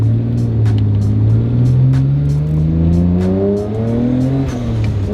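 Nissan Skyline R33 GTR engine revving loudly and close, a steady sustained drone that rises and falls in pitch as the throttle is worked, with no talking over it.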